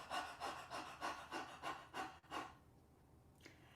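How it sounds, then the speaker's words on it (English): One person pants like a puppy as a breathing exercise: about eight quick, rhythmic breathy huffs close to the microphone, then a pause and a faint final breath. "watch me pant like a puppy"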